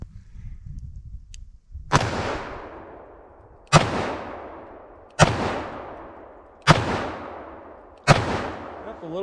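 Five booming shots from a Smith & Wesson Model 69 Combat Magnum revolver loaded with lighter-bullet Winchester ammunition, fired outdoors at an even, unhurried pace, each sharp crack followed by a long rolling echo.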